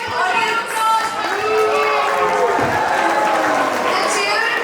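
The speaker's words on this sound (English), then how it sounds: "give a huge applause for" A school space science quiz audience cheers and claps for a team, a loud crowd roar with shouting children and applause, mixed with voices over it.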